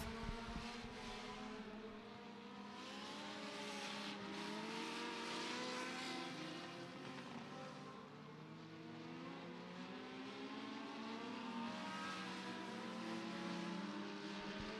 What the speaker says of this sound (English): Green flag in the air for the 33 car.